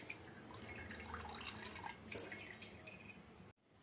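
Faint water drips from a hanging cloth bundle of freshly made chhena (cottage cheese) in a home kitchen, sparse soft drops over a steady low hiss.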